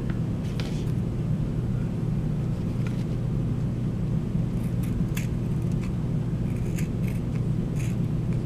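Scissors trim the ends of ribbon for a hair bow, several quick crisp snips and clicks clustered near the end, heard close over a steady low room rumble.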